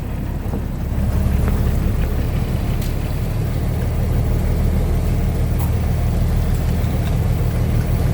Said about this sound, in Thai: เนี่ยเรือไดหมึกครับผม